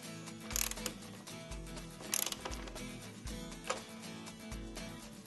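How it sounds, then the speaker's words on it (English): A socket ratchet tightens a hood strut insert during a hood lift kit installation on a car, giving repeated close pawl clicks in short bursts, fairly quiet and with no one talking. "Finger tighten, and then continue to tighten with your socket."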